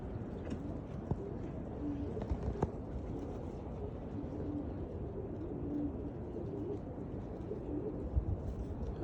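Pigeons coo softly and repeatedly outdoors while the keeper waits to let his flock back in after flying against a falcon, the low murmuring calls steady under faint background noise.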